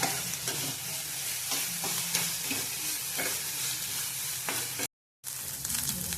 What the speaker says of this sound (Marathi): आता यात आपण 1 चमचा तेल ओतून गोल्डन कलर येईपर्यंत भाजून घ्यायचा आहे